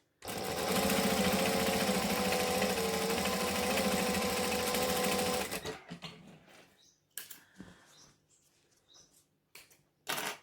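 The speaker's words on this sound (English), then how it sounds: "I'm going to stitch a couple forward, a couple back." A sewing machine stitches forward and then back on a bag in one loud, rattling mechanical run lasting about five seconds, followed by quieter clicks, taps and handling noises.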